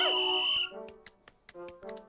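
A captain's whistle calls Pikmin in a Pikmin game: a bright, warbling whistle blast, followed by a string of quick, chirpy little responses and clicks.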